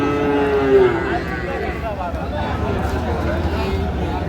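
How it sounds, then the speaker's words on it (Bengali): Sahiwal breed bull calves moo on a farm in Netrokona, a single clear low call near the start followed by faint, muffled lowing under steady background talk. "মোমেন ভাই গরু দুটি দেখছেন"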